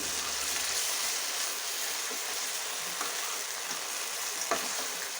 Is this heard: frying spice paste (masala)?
yes